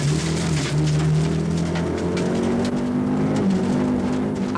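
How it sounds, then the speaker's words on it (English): An Audi 90 Quattro rally car, heard from inside the cabin during a 1989 to 1991 Irish rally stage, roars continuously and loudly, its engine note rising and falling as the driver shifts and accelerates. "really trying in the Audi 90 Quattro, as we can see from inside the car"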